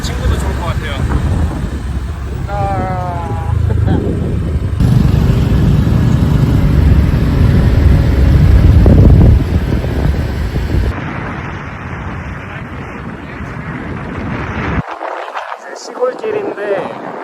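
A scooter rides along a country road outside Siem Reap, Cambodia, heading toward Kulen. Engine drone and loud wind rush fill the whole ride, and someone talks over it at times.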